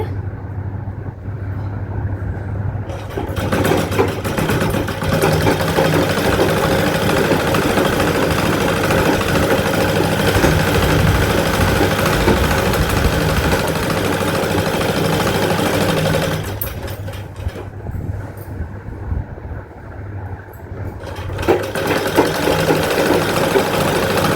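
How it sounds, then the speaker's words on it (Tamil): A sewing machine stitches a churidar, a loud, steady mechanical whir running for long stretches with brief pauses near the start and around the middle before picking up again. "இந்த இடத்துல நான் ஸ்டார்ட் பண்ணுறேன் தைக்க."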